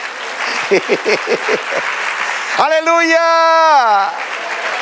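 A church congregation at a women's meeting bursts into steady applause, then one voice rings out in a loud, sustained exclamation that rises above the clapping.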